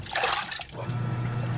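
A Haier HLP23E portable washing machine rinses clothes with fabric softener, giving a close, steady sloshing and trickling of water followed by a low humming tone from the machine.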